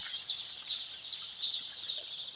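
On a farm, day-old Sonali chicks make a rhythmic series of about six high, thin peeps, faint and evenly spaced with no other sound.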